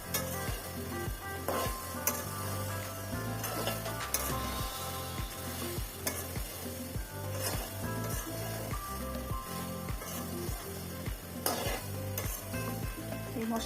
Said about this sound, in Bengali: এই মশলা সরিষার তেলের সাথে মাংসটা ভালো করে নেড়ে চেড়ে মিশিয়ে দিব।